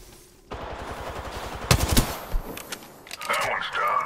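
Rapid bursts of video game gunfire crackle and pop amid busy battle noise, with a few sharper shots standing out partway through.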